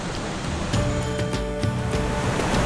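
The Parvati river flows beside a village road in India, a steady broad rush of water heard close and constant, with a few faint knocks and clicks over it.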